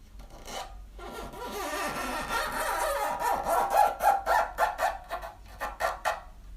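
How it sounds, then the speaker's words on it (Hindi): Tape being peeled off an LED strip on the fuel tank of a Honda CD 70 motorbike, a scraping, ripping rasp that builds into a run of short rhythmic tearing pulses, close and fairly quiet, with no voices. "सिंपली आपने फ्रेंड्स के ऊपर टेप उतार देनी है।"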